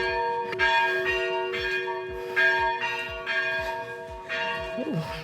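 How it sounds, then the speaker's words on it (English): Church bells ring repeatedly on a hillside in Athens, Greece, a sustained rich chime with rhythmic strikes about once a second, fairly close and steady throughout. "So, think of the bells."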